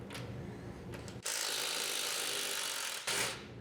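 A ratchet clicks rapidly and steadily at close range as it backs a bolt off the cylinder head of a blown 327 engine, with a shorter burst of ratcheting right after.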